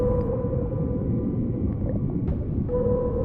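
Sperm whale calls sound in deep water, a dense low rumble with faint tonal whines and a few brief clicks over a steady underwater background, alone and continuous.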